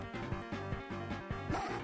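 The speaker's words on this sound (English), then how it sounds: "This friggin' punk-ass dog. Get out of here." Rapid, regular dog barks from Scud in the Sega Genesis Toy Story game, about eight yaps in quick succession, close and clear with no talking.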